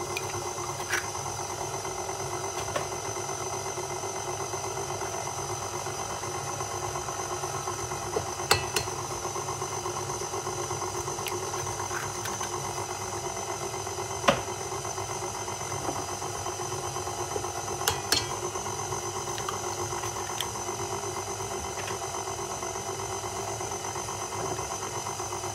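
An electric mixer kneading brioche dough for sausage brioche, giving a steady, fairly quiet motor hum with a few faint knocks and clicks scattered through it, and no talking.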